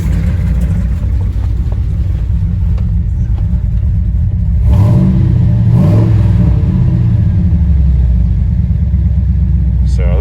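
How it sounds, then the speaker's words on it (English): A pickup truck's 8.1 Vortec V8 with a cam and a custom quiet exhaust idles with a deep, steady rumble close by, rising in two short revs midway before settling back to idle. "So this is probably the quietest my truck's ever been."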